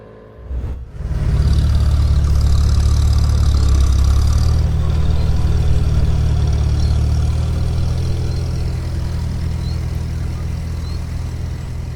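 A farm tractor's engine running steadily, close and loud, with a low heavy rumble that holds for the whole stretch after a brief bump at the start, and no talking.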